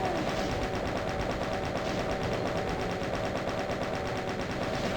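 Rapid, continuous machine-gun fire from chaingunners in the shooter game DOOM rattles nonstop with an even, dense rhythm, fairly quiet and without pauses or voices.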